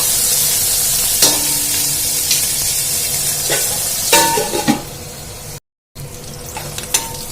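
Capsicum, green chillies and curry leaves fry in a pan with a steady soft sizzle, broken by several clattering stirs and scrapes of a spoon, with a brief silent gap near the end.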